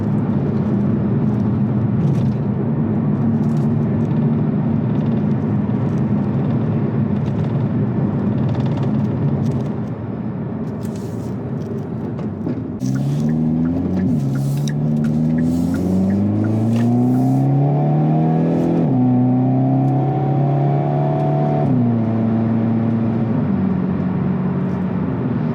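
A 2022 Hyundai Kona N front-wheel drive car accelerating, its engine droning loudly from inside the cabin, then revving and climbing through several gear changes in rising and falling sweeps.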